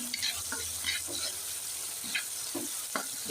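Garlic frying in a pan in a home kitchen gives a soft, continuous sizzle, with scattered scraping and stirring clicks and faint background noise throughout.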